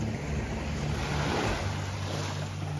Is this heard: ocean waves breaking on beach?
yes